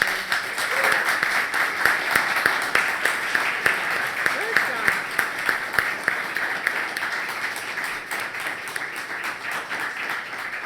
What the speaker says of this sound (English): So can we have a round of applause for them?